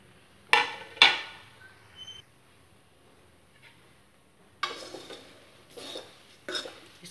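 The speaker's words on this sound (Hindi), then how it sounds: "तो मसालों को अच्छे से मिक्स करना है।" A spoon scrapes and clinks against a pan while spices are stirred into a homemade namkeen mix, with a pair of sharp clanks early on, then quiet, then several more scraping knocks later, close and without voices.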